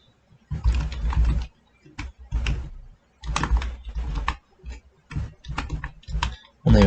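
Someone types a name on a computer keyboard in several quick, clattering bursts separated by short pauses, close and fairly loud with no voices.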